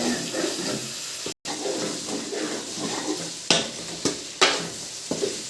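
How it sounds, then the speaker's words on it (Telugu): Masala with brinjal frying in oil in a pan, a crackling sizzle broken by several clattering scrapes of a spoon stirring against the pan. "కాకపోతే అప్పుడప్పుడు ఇలా కలుపుకుంటూ ఉండాలి, ఎందుకంటే నూనెలో బాగా తేగాలి కదా మసాలా."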